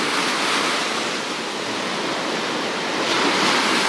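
Waves washing onto a beach on the Azov Sea in a breeze, a continuous broad surf hiss with wind buffeting the microphone and no speech.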